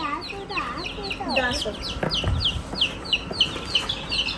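Many high chicks peep in rapid, overlapping chirps while hens cluck lower down, with a few brief voices nearby.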